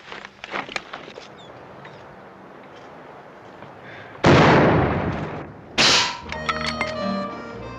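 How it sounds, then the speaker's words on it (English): Rifle shots ring out in a western TV show: scattered faint pops early on, then a loud, sharp blast with a long echoing tail, followed by a second heavy shot and fainter ringing reports. "Where are they shooting from?"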